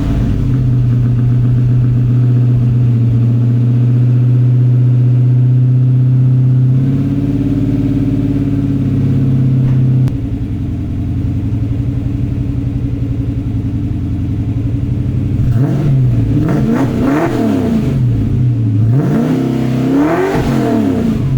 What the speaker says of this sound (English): It's time to get inside the car and fire it up, see what it sounds like.